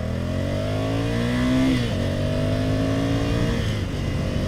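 A 2020 Ducati Scrambler Cafe Racer motorcycle pulls away from a stop, its engine note climbing steadily through the revs, dipping at a gear change and rising again, loud and close to the rider.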